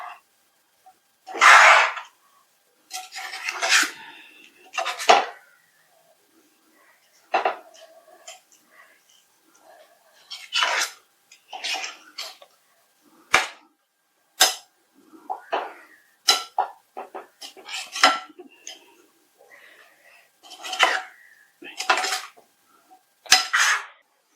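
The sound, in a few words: stirring fried garlic, ginger, curry leaves into tuna pickle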